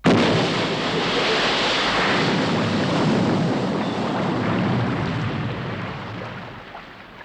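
A Stingray submarine fires a Sting missile in a 1960s TV sound effect: a loud, sustained roaring whoosh with a rushing, watery texture that holds steady for several seconds and then slowly fades.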